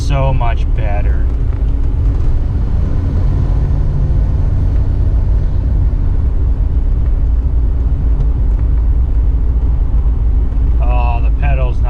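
A 1991 Cadillac DeVille with newly replaced brakes cruises down a street, its steady low engine and road rumble filling the cabin throughout, with no one talking.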